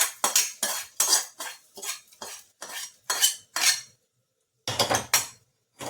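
A metal spoon stirs fried onions into a tempering pan, giving a quick run of loud clinks and scrapes, about a dozen in a rhythmic burst, then a short pause and a few more, close by and with no talking.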